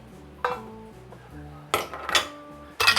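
Tong choy greens are added to a pot of fishball soup with ginger slices. Three clear metallic clanks of a utensil against the pot stand out over a quiet background.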